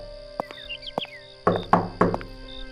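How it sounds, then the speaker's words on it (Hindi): Three firm knocks land on the door of a small hut, evenly spaced and close. Soft tonal chimes and taps come before them. "वो अभी बैठा ही था कि तभी दरवाजे पर खटखट की आवाज हुई।"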